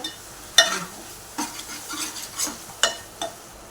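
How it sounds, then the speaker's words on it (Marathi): A spoon stirs turmeric, garam masala and salt into a cooking masala for a spicy goat-head curry, making several distinct scraping taps against the pan over a quiet, faint sizzle. "हळद गरम मसाला आणि चवीनुसार मीठ मिक्स करून घेऊया"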